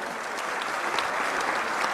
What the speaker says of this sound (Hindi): इनके लिए जोरदार तालियां।